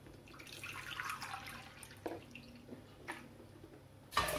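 Filtered water is poured into a pot of rice for Portuguese rice pudding, a few faint splashing and trickling bursts with brief pauses, close but quiet.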